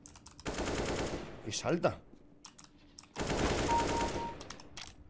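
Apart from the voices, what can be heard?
gunfire in video game CS:GO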